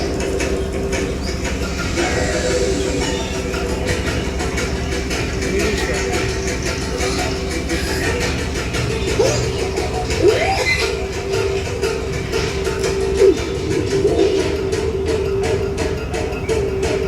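An exhibition train ride runs with a steady, loud rumble and rattle of wheels and cars, a continuous mechanical roar with faint squeals and clatter, and voices faintly audible in the background.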